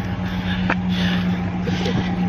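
A car being driven, a continuous close engine drone heard from inside with steady road noise and brief faint voices.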